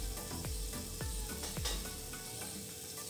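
Moong dal appe fry in a pan over medium heat with a steady, close sizzle, broken by a few soft clinks and scrapes and no voices.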